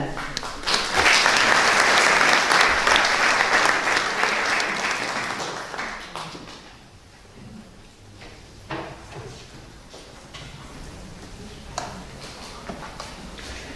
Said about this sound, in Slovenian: Sedaj pa aplavz še za vse skupaj